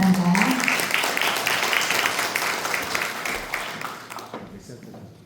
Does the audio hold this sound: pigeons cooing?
no